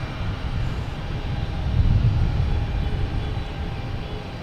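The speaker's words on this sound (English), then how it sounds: "We'll probably start up its engines and make a loud racket." An Alaska Airlines jet at Boston Logan Airport runs its engines in a steady, loud, low roar that swells slightly midway and holds throughout, heard from outdoors at some distance.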